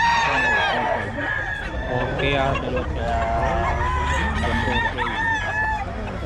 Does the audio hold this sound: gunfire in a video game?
no